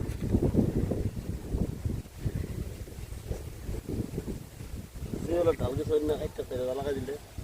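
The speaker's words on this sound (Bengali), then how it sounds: "বাতাস কাকে বলে দেখো" Gusty wind on a pond bank buffets the microphone in low, rough rushes, with a person speaking partway through and the blustery noise continuing underneath.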